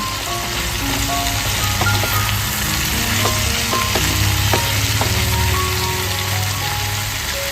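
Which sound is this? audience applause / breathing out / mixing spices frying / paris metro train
mixing spices frying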